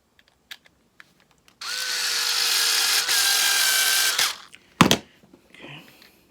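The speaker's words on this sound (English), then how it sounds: "put that plate back on here like that, and then put these screws in" A power drill driving magnetic screws into a TV wall mount plate, one continuous whirring run of about three seconds with a brief dip partway, then a sharp clunk and a few scattered taps afterward.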